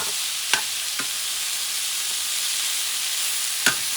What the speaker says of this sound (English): Mix it up for a few seconds because you don't want the garlic to burn.